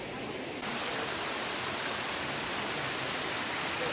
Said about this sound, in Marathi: हा पाण्याचा धबधबा